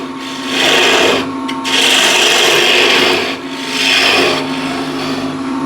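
A spindle gouge cuts a spinning mahogany plate blank on a lathe, giving a loud, close, continuous rasping hiss that swells and eases in long passes over a steady motor hum, with brief gaps between strokes.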